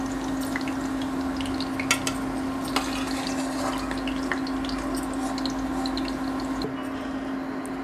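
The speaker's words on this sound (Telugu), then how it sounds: "బెండకాయలను మధ్యలో ఈ విధంగా ఘాటు పెట్టుకుని వేసుకుని వీటిని కూడా కాసేపు వేగనివ్వాలి" Slit okra frying in hot oil in a pan, making a steady, dense sizzle with occasional small pops and a constant low hum underneath, with no one speaking.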